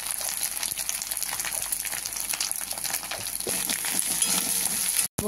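Spices and ginger fry in a pan with a loud, dense, steady sizzle and crackle, heard close and continuous, briefly cutting out at the very end, with no talking.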